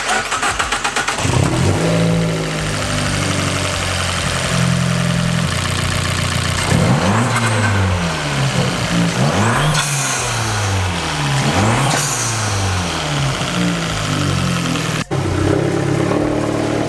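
A turbocharged Fiat 500 Abarth engine revs repeatedly, close and loud, climbing and falling in pitch over a steady idle, with sharp blow-off valve releases between revs and one abrupt click near the end.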